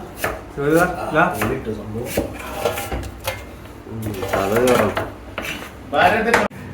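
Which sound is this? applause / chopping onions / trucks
chopping onions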